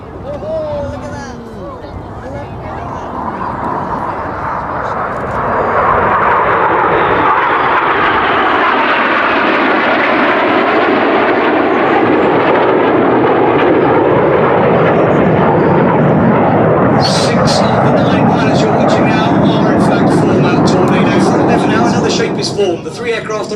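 Red Arrows jets in formation roar past at the Duxford airshow with smoke on, a loud, sustained, sweeping engine rush building over several seconds, peaking and slowly shifting, with a crackling tail near the end.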